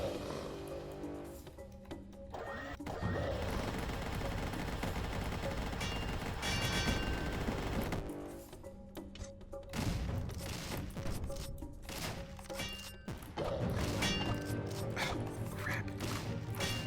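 A minigun fires in the Dungreed video game as a dense, continuous rattling barrage, loud and sustained over several stretches with short breaks, layered with game sound effects and music.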